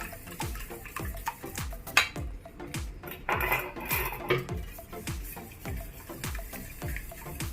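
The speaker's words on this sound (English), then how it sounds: "we'll need to beat the eggs" Eggs are beaten by hand in a bowl, the whisk striking the sides in quick, steady clinking strokes that continue throughout, close up and without speech.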